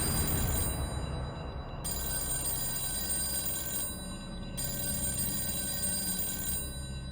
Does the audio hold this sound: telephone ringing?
yes